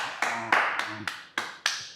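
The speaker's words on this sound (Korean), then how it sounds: "박수 한번 쳐주자" Handful of sharp claps in a gym, about six distinct slaps spaced unevenly over two seconds, close and fairly quiet, with no talking.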